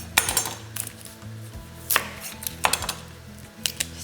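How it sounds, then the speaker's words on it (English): A knife chopping a single onion into wedges on a board, with about a dozen sharp, irregular cuts close up and a low hum underneath, no talking. "1 onion here, chop this just into sort of wedges."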